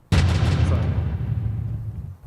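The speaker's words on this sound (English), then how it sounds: "this little boy was blown off his feet because of a sewer drain exploding" A sewer drain explodes on a street, one sudden loud boom with a sharp onset, followed by a long rumbling low roar that slowly fades over about two seconds.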